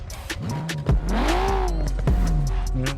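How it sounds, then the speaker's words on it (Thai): A stock Nissan GTR R33 engine in Forza Horizon 4 revs in quick bursts, rising and falling in pitch with short gear-like breaks over a steady low drone, fairly clear and alone. "ฟังเสียงเครื่องเดิมหน่อย"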